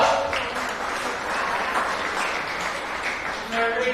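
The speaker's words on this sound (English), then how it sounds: "Give Carson Diggs a round of applause." Applause for a young lamb exhibitor at a county fair sheep and lamb show, steady clapping from an audience filling the whole moment, with a voice speaking over it.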